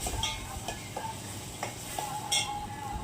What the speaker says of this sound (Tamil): வாசனை வர வரைக்கும் வதக்கிக்கோங்க